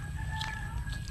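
A chicken clucks briefly and faintly over a steady low background hum, with no voices.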